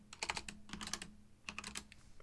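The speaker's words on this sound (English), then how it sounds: "I do have quite a mechanical keyboard that makes a little bit of noise." Rapid clicking keystrokes on a mechanical keyboard, fairly close, in short irregular bursts with brief pauses and no talking.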